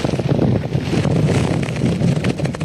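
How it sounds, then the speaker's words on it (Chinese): Strong typhoon wind gusts at the coast of Donghe Township, Taitung, during Typhoon Haikui's landfall roar steadily and loudly into the microphone, a dense continuous buffeting rush with no speech. "因为强阵风吹拂的关系"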